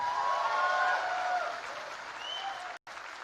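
Audience applause at a Tiprasa cultural festival in Bangalore, a sustained wash of clapping from a crowd that gradually thins out, with a few whistles over it and no talk.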